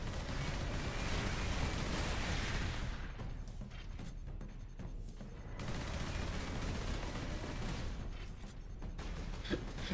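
Heavy turret gunfire in the video game Space Marine 2, dense rapid bursts and booming blasts forming a loud, continuous barrage that briefly thins midway before resuming.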